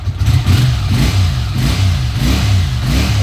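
A Honda CX500B motorcycle engine, stone cold after a month unused, runs on choke with a loud, uneven low throb, its revs rising and dipping in repeated surges with no voices over it.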